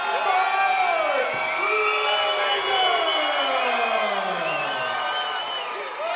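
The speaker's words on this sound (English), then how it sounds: "listen to that crowd" A live fight-event crowd roars and cheers after a fighter's name is announced, a dense loud wall of shouting, whoops and whistles filling the arena, sustained throughout with individual voices rising and falling within it.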